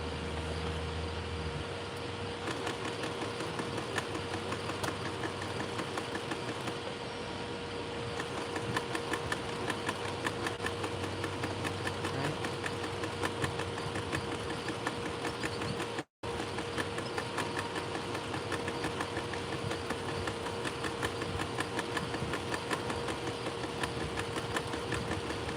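A sewing machine stitches through denim in a steady, fast mechanical whir with a constant hum, running nearly nonstop for about twenty-five seconds except one brief pause partway.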